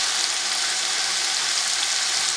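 Peas dropped into frying pulao ingredients sizzle in a pan, giving a steady, bright, hissing crackle with no talk.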